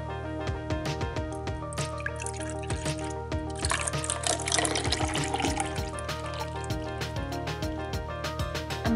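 Milk being poured from a measuring cup into a plastic shaker cup, a steady close trickling and splashing stream with dripping accents, continuous throughout, no talking.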